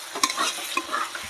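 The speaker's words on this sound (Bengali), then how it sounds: "মাংসটা এবার সুন্দর করে মশলার সঙ্গে ভালো করে আরও কিছুক্ষণ আমি কষিয়ে নেব।" Chicken pieces stir-fried with masala in a pan for ghugni, quick close scrapes of a spatula over a bright continuous sizzle in a brief burst.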